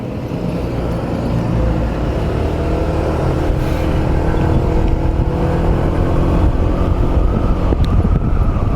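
A motorcycle engine runs during a break-in ride to Tagaytay, a loud, close, continuous droning rumble mixed with road and wind noise that holds steady throughout.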